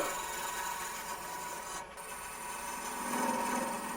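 A wood lathe turns a small wooden box while a chisel makes a peeling cut, giving a steady, close, rasping scrape with a constant hum underneath and one brief dropout.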